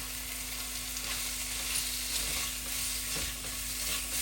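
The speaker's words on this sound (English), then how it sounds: "My sausage is pretty browned up." Ground sausage browning in a frying pan gives a steady, even sizzle with soft stirring scrapes throughout.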